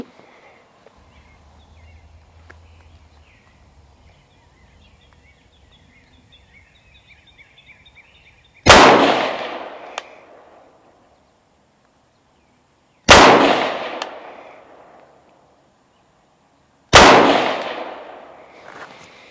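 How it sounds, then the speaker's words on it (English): Three loud rifle gunshots fired outdoors on a range after a Vector Optics Maverick II optic is remounted, each a sharp blast with a short decaying echo, spaced about four seconds apart following a quiet stretch. "Rifle's loaded. Let's see where these shots go."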